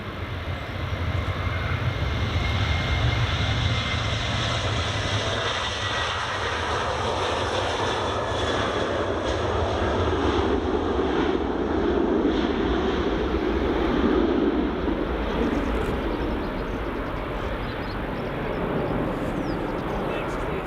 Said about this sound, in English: Jet2 737-800.